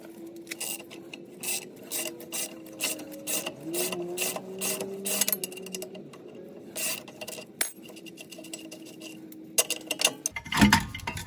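Metallic clicking and clinking as a wrench removes the upper nut from a Jeep Wrangler JK shock, in an uneven run of taps and ratcheting strokes, close, with a louder clank near the end.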